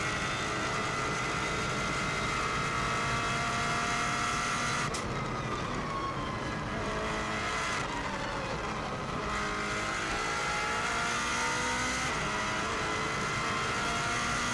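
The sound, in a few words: Subaru WRX STI driving flat out on Isle of Man TT course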